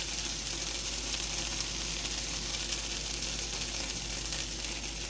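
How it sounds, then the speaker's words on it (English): Taco meat sizzling and frying in a pan, a steady crackling hiss that runs loud and unbroken from start to finish with no talking. "Oh, it's sizzling."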